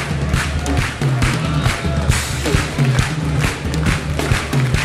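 Church congregation at a Christian convention shouts and cheers in acclamation, a dense, loud crowd roar with rhythmic surges and thumps, voices overlapping throughout.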